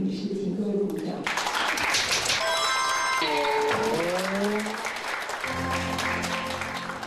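A crowd applauds after a woman is announced as a presidential candidate. The clapping is loud and sustained and is mixed with bright tonal chimes and voices that shift through the burst.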